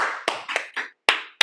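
A few hands clapping in short uneven bursts, close and dry, with five or six distinct claps across a brief moment.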